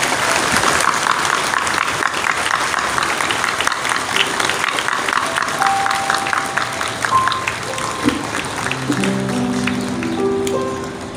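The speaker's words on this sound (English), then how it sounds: "let us all join together in a round of applause to the Grammar School for 175" Audience applause at a grammar school's 175th anniversary celebration, sustained crowd clapping that gradually thins out, with a few sustained tones and background sounds emerging as it fades.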